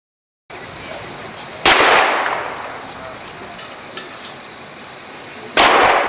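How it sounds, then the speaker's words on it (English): Two sharp gunshots ring out several seconds apart, each cracking loudly and echoing away against a quiet outdoor background, ending a police standoff. "Those are the shots that ended a 10-hour-long standoff"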